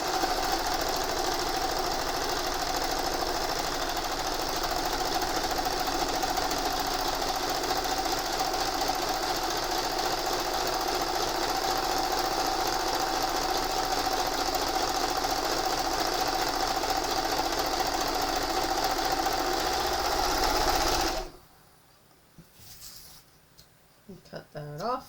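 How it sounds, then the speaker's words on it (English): Serger overlocker stitching along a raw fabric edge for a chenille sofa project, a loud steady mechanical whir running continuously for about twenty seconds before stopping abruptly, followed by faint handling noises. "I'm going to go over here and serge this edge, raw edge"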